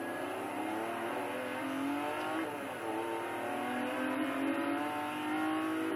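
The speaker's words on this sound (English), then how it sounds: "yes, I do have a Lamborghini. And yes, it is very fast." A Lamborghini in a racing video game holds a steady, droning engine rev with slight pitch swells, loud and continuous throughout.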